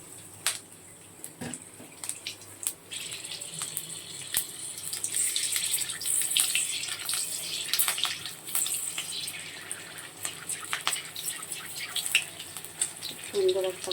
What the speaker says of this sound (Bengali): এবার আমি কাঁচা লঙ্কা দুটো আর একটু কালো জিরে ফোড়ন দিয়ে দিচ্ছি।